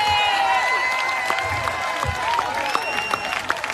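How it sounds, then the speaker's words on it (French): Crowd applause and cheering at a political rally in French Guiana, a standing ovation of steady clapping with scattered whistles and shouts, loud and continuous throughout. "Standing ovation,"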